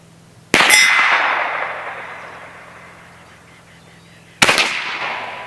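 A Challenger Pro 357 PCP air rifle fires a slug into a metal target, giving a sharp crack and bright metallic clang that rings out for several seconds, followed by a second sharp impact near the end.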